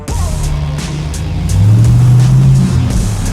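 A real Dodge RAM pickup truck arrives, its engine rumbling close by and rising into a louder rev midway, then settling, with no talk over it.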